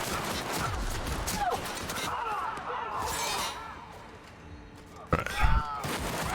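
Gunfire in the video game The Outer Worlds: bursts of shots and shattering impacts sound through a busy, noisy firefight, with a sharp loud cluster of shots near the end.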